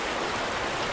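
Creek water trickles steadily into a deep pool, a close, continuous watery rush with no voices over it.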